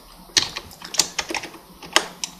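Keys clack on a computer keyboard as a logo name is typed, a short irregular burst of crisp close taps with brief pauses, alone in a quiet room.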